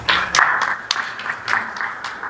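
Brief, scattered clapping from a church congregation, a few sharp distinct claps at irregular intervals rather than a full ovation, fairly close and moderately loud.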